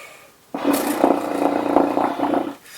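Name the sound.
air flutters, flutter tonguing air through a horn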